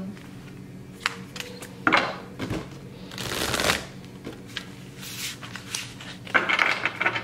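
Playing cards are shuffled close up in several quiet, crisp bursts of riffling and sliding, with short pauses between them and no voices.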